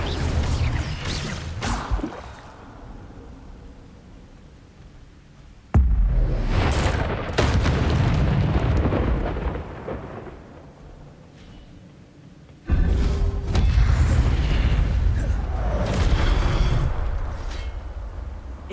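Incendio fire spell blasts in Hogwarts Legacy come as three separate bursts, each a sudden loud whooshing boom that crackles and slowly fades, spaced several seconds apart.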